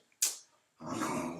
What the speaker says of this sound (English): that is my dog going crazy while I'm doing a video